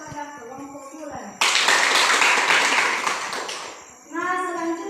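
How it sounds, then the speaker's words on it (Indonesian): A class group of children bursts into loud, dense clapping for several seconds, framed by a voice speaking before and after. "Tepuk tangan kepada kelompok bulan"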